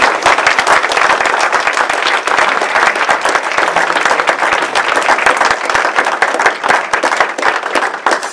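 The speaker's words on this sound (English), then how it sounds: "Let's give a big round of applause to those who came up here." An audience at a state public-speaking contest claps steadily and loudly for the contestants, a dense continuous round of applause with no talking.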